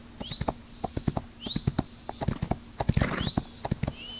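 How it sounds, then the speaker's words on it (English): Horse hooves in Rival Stars Horse Racing beat in a quick, uneven galloping rhythm, sharp close thuds repeating across the clip over a faint steady hum, with occasional light chirps above. "this is a young horse, fresh, new out of the stable here, so we're just warming her up"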